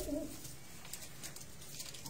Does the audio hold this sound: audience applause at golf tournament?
no